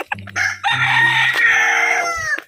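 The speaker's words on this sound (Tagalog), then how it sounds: "Ang dami niyang manok dito." A rooster crows loudly and close, one long drawn-out call preceded by a few short clucks.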